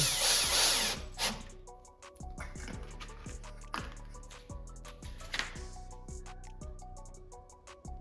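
A power drill drives sheet metal flat screws while a crawler course is being built, giving repeated short whirring bursts and clicks with a loud stretch at the start, close by and with no talk.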